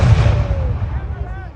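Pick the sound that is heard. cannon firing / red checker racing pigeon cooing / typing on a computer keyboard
cannon firing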